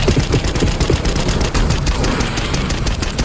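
Rapid automatic gunfire in Call of Duty: Black Ops 6, a dense continuous burst of loud shots with no pauses, filling the scene without voices.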